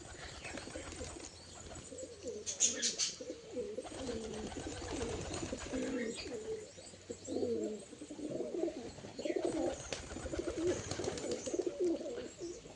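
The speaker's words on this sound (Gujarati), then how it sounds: "આપણા બે કબૂતર તો આવી ગયા છે ઓલરેડી" Pigeons being hand-fed peanuts coo in low, throaty repeated phrases close by, with a brief flutter of wings and faint chirps in the background.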